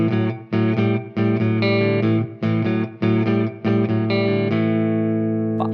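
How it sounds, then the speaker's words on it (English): Electric guitar playing a standard A blues shuffle, a rocking chugging rhythm of repeated chord stabs with short gaps that ends on a ringing chord, close and clean, with no speech. "A blues shuffle, something like this."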